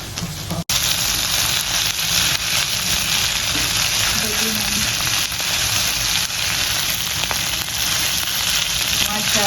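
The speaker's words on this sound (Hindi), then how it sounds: "बहुत अच्छे से भूनेंगे जब तक इसका कलर चेंज ना हो जाए" Chicken liver fries on a hot tawa with a loud, dense, continuous sizzle and crackle that stays steady throughout, up close, with only a brief dropout near the start.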